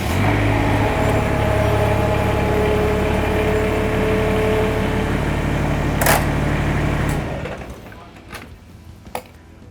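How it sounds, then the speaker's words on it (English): A Ventrac tractor runs steadily up close as it drives onto a ramp, its engine a continuous rumbling drone that cuts off after about seven seconds, leaving quiet with a few sharp clicks and knocks. "I'm gonna drive the tractor on top of this indestructible ramp"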